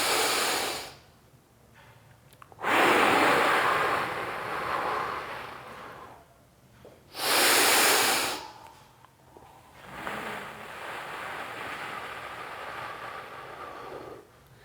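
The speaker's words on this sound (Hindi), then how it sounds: "मुंह से छोड़ना जैसे आप स्ट्रॉ में छोड़ते हैं" Breath is pushed out through pursed lips as if through a straw, producing long, strong whooshing exhales at steady intervals, three loud blasts with softer airy breathing between them, close to the microphone.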